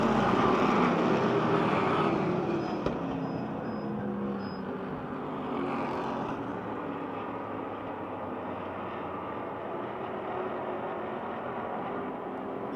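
Race cars run laps on the Motordrome Speedway track during an opening-night feature, making a continuous, even engine roar that carries from a distance for the whole stretch with no voices.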